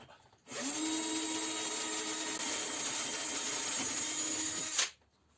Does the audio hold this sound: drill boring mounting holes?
yes